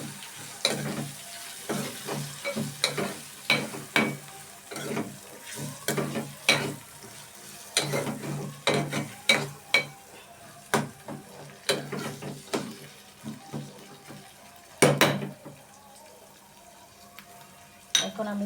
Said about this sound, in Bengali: আবারও ভালোভাবে নাড়তে থাকবো।